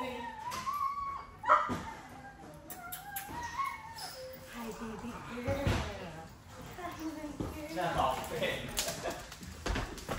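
A dog whimpers and gives short high yips during a training session, several thin whiny calls scattered across the stretch, fairly faint and mixed with people talking nearby.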